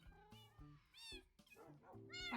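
Minecraft cats give several short, clear meows in quick succession, close and distinct, alone without talk.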